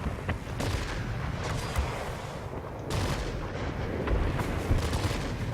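Rapid cannon fire from a Yak-9 fighter in the World of Warplanes combat game, heard as dense, continuous bursts of booming shots over a steady rumbling engine roar, loud and close throughout.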